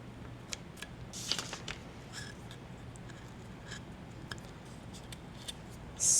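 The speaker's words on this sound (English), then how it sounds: "get in there tight with my little, not so little scissors, with my scissors, just to get those edges that are a little tricky with the sanding block" Small scissors trim the edges of a decoupaged napkin on a spring bunny craft piece. Quiet, scattered snips and ticks come up close over a low hum, ending with a louder rustle.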